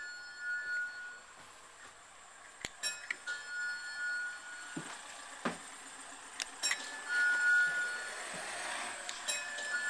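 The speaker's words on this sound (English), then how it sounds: "check to make sure that the buzzers are working" Stop buzzers are tested one by one aboard a bus, giving a few short electronic beeps and chimes spaced apart, with faint clicks and knocks between them in an otherwise quiet interior.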